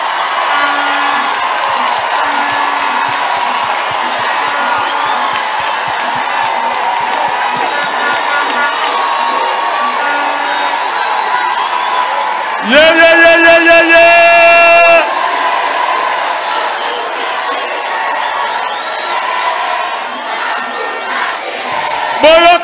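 A church crowd claps and shouts in loud, sustained cheering, with a burst of bright tonal music or feedback partway through and voices calling out over the din.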